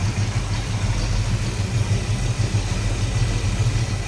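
A Chevrolet 283 V8 topped with an Edelbrock 4-barrel carburetor and HEI ignition, in a 1963 Chevrolet Nova convertible, idles low and steady with a smooth, even rumble throughout.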